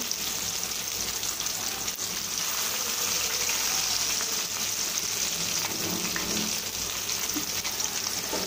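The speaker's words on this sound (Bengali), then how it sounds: "চিকেন ফ্রাই করে দিচ্ছি গরম গরম" Chicken pieces fry in hot oil on a home stove on a rainy day, a steady loud sizzle and crackle that runs without a break. No one speaks.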